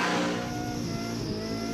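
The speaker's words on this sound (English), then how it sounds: "Look at that blower belt working away. Yeah, you can hear it whining too." A supercharged Ford Falcon skid car at a burnout event in Alice Springs holds high revs, with a steady blower-belt whine riding over the loud, sustained engine roar.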